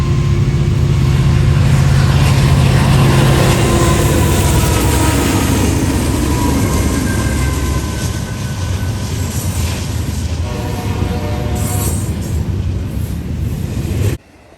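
A Norfolk Southern intermodal freight train loaded with containers and some trailers rolls past on the NS Chicago line. The roar of wheels and cars is loud, close and continuous, with metallic squealing and rumbling before it fades at the very end.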